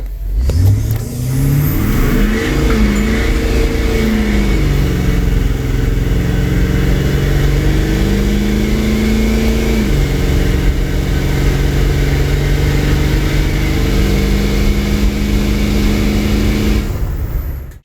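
An idling high-mileage Duramax diesel engine, around 450,000 miles, out of an OBS truck, runs loud and close, its pitch climbing in an early rev, then rising and settling again through a long steady drone before cutting off.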